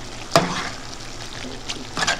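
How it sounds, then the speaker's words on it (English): Ground meat browns in a pan with a steady soft sizzle and crackle, broken by a few brief louder scrapes or stirs, close and without talk. "So we're gonna keep on browning this."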